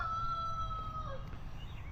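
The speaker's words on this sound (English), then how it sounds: "Mr. Rooster there, he started crowing again about 2 o'clock this morning." A rooster crows once, a thin drawn-out call that fades after about a second, heard somewhat faintly over low background rumble.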